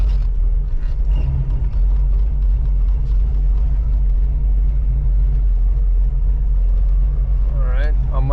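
A 1985 Oldsmobile Cutlass with a newly fitted carburetor idles in a steady, loud, low rumble close by, with someone speaking over it.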